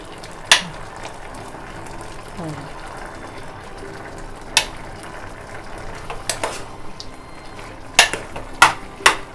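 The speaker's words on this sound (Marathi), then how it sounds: "आता भोपळा चांगला स्मॅश पण होतोय." Pumpkin cooked in its own released water is mashed and stirred in a pan. Sharp metallic scrapes and taps of a spoon against the pan come at irregular moments over a soft, wet background.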